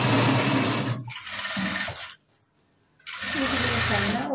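A sewing machine stitches the front piece of a blouse in two loud bursts with a short silent pause between them, running steadily and close.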